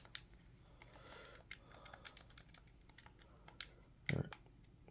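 Buttons on a new 8BitDo Ultimate game controller are pressed in quick succession, giving a series of light, crisp plastic clicks at close range against a quiet background, with one heavier thump near the end.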